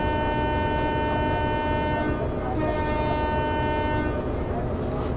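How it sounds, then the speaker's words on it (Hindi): A locomotive horn blares in the Open Rails train simulator on a Mumbai Central to Borivali run, a loud, sustained chord-like blast lasting several seconds over a steady engine hum. "चलिए अब सेकेंड हॉर्न भी बजाकर यहाँ से डिपार्ट करेंगे।"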